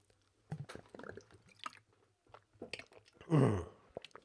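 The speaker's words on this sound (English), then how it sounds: "I'm going to drink some water" A person drinking water close to the microphone, with wet mouth sounds, a gulping swallow and a louder slurp near the end, between quiet pauses.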